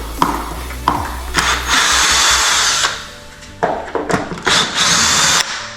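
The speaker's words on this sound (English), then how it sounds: "Let me get my drill. I'll just take the screws out." A power drill removing screws whirs close by in several bursts, revving up and stopping with clicks and handling noise between runs.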